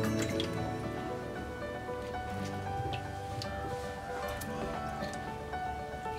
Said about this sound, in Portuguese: é você encher uma vasilha de água e aí colocar a planta dentro